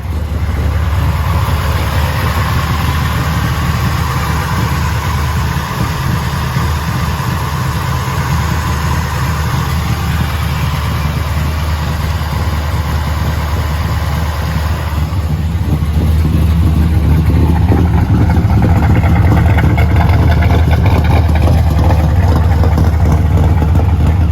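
A 1970 Chevrolet Chevelle engine starts and runs steadily at idle, loud and close, with its tone shifting slightly partway through.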